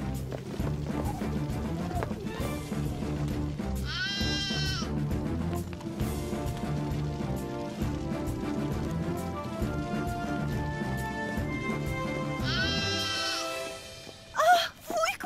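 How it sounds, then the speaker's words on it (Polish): Cartoon lamb bleats twice in a children's animated firefighter series, a high wavering cry near the start and again near the end, heard over background music with hoof-like clopping. "To wełniaczek, mały baranek."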